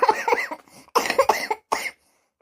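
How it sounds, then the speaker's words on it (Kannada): A person coughs in a rough, voiced series of bursts, several in quick succession, close and fairly loud, with a brief pause before one last cough and then silence. "ಅದು ಏನಾರು ಕೆಮ್ಮು ಹಾಕ್ತೈತಿ"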